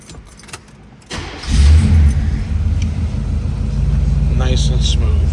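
A 1973 Chevrolet Chevelle engine starting after a second of quiet and a brief crank, then catching into a low, steady rumbling idle close by, with a voice speaking briefly at the start.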